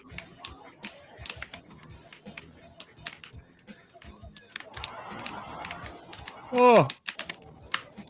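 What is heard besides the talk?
typing on a computer keyboard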